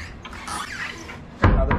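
Cupboard door in a beach resort room in Agonda, Goa, bumping shut with a soft close nearby, a low knock near the end after a quiet stretch of faint room noise.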